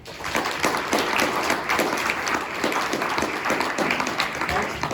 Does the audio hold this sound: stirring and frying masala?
no